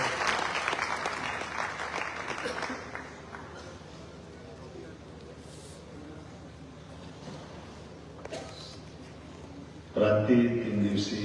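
Loud applause from an audience at a youth camp event in Bhopal fills the opening seconds, fades under a voice at a microphone, and a fresh burst of clapping rises near the end.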